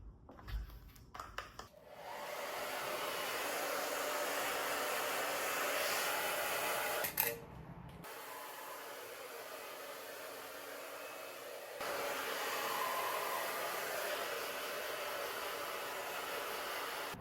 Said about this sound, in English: this is perfect blow dryer